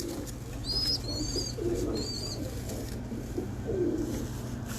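Pigeons coo softly nearby, low throaty calls repeating a few times over a steady background hum, with a few faint high chirps.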